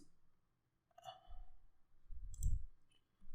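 Two or three soft, quiet mouse clicks spaced apart during a web search on a computer, with faint low handling noise between them and no speech.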